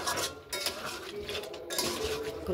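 A curry is stirred in a pan, with faint close clinks and scrapes of a spoon against metal repeating through a quiet, low background.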